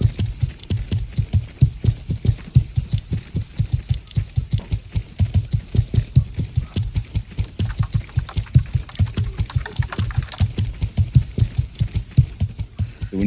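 Horse hooves clip-clop in a steady, rapid galloping rhythm in the medieval game Life is Feudal, each hoofbeat loud and close, continuing unbroken with no talk over it.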